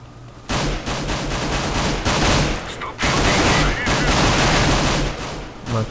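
Rapid gunfire bursts from Counter-Strike: Global Offensive crack loudly in repeated volleys, with short gaps between clusters of shots and a voice speaking faintly underneath.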